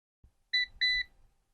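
An Allan Model 1222 alarm timer with a wiring problem gives two short, loud electronic beeps in quick succession, clear and close, following a faint click.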